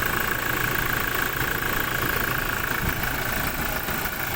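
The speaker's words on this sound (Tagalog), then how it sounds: "Nilinis namin yung turbo kasi grabe ng dumi. Nagumanda ikot." A 2017 Toyota Innova engine runs steadily just after its turbo was cleaned of heavy dirt, giving a constant, loud idle hum with a persistent whine and no talk.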